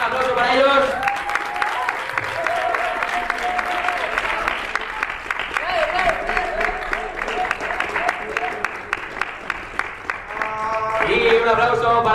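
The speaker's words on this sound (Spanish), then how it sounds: "El equipo blanco, el equipo impar, un aplauso para ellos." An audience at an improv match claps for the white team with steady, dense applause that fills the room. Voices and cheering are heard over the clapping.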